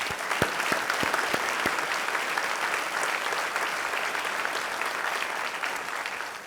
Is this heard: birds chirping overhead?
no